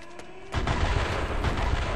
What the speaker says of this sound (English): Our artillery will shake him up.